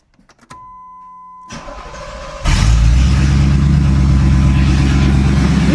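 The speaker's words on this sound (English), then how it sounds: "Nothing like a cold rev." A cold 1991 Pontiac Trans Am GTA engine catches after a quiet moment, then roars into a loud, sustained rev close by, with no one talking.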